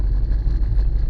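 An old Volkswagen, bought cheap after sitting unused for 19 years, drives along with a steady low engine rumble and road noise, some wind buffeting, and no voices.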